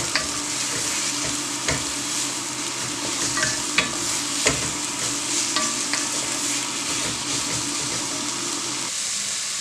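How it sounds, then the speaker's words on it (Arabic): Kefta meatballs frying with onion and parsley, a steady, close sizzle with occasional stirring clicks and scrapes throughout. "من بعد ما شحرتنا الكفته مع البصله والخيزو"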